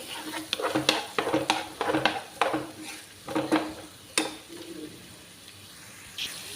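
Potatoes and onions for aloo curry are stirred in a pan, giving a series of close scraping and clacking utensil strokes in an irregular rhythm that thin out toward the end, with no talk.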